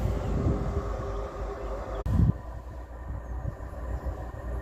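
A Class 158 diesel multiple unit, 158882, runs on the Salisbury to Southampton Central service in southern England, giving a steady, fairly loud rumble with wind buffeting and a brief thump midway.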